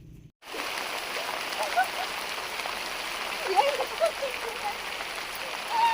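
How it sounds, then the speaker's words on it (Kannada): Steady rain falls all around, a dense even patter with occasional heavier drops, after a brief quiet start. "ಮಳೆ ಬರ್ತಾ ಇದೆ."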